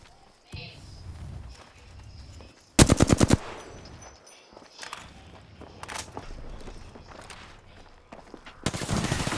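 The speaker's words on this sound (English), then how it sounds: "Listen up, I'm getting shot at." Rapid gunfire in the video game Apex Legends comes as a short loud burst of shots midway and another at the end, amid quieter footsteps and game noise, with a player talking.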